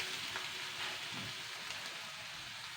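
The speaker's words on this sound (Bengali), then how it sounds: "এবার আমি সিদ্ধ করে রাখা ছোলার ডালটা দিয়ে দেবো" Boiled chana dal goes into a hot frying pan with garlic and ginger paste, giving a quiet, steady sizzle with a faint soft stir partway through and no voices.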